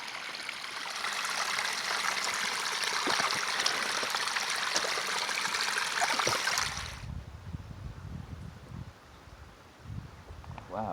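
A backcountry stream rushes and trickles steadily, fairly close, while a small Sawyer water-filter bag is filled. Midway through, the rush drops away to softer handling noises and low thumps.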